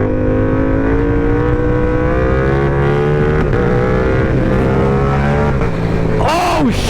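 Yamaha motorcycle engine, an R7 or MT-07 ridden through London streets, revving hard through a wheelie in third gear, a loud steady drone that climbs in pitch before a sharp shift near the end, with traffic around.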